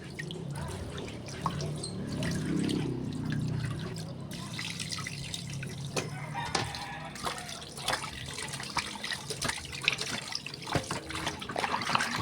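Tap water runs and splashes into a sink to soak frozen salmon head and backbone in a home kitchen, a steady trickle with scattered drips and clinks, close by and fairly quiet, with no talk.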